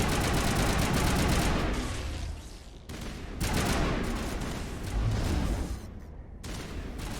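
Heavy gunfire in Mass Effect: Legendary Edition, a dense, continuous barrage of shots and blasts that pauses briefly, then resumes loudly with brief gaps.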